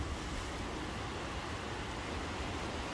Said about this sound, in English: I see the water running down the road.